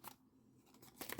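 Scissors on a multi-tool snip quietly with a few short crisp cuts, close and faint, with no talking over them.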